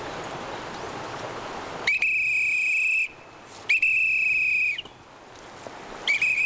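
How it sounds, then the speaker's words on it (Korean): An old man blows a whistle to call his goats by a river in the countryside: three long, shrill, steady blasts, each lasting about a second, separated by short pauses against faint outdoor ambience. "강을 건넌 할아버지가 호루라기를 꺼내 불자"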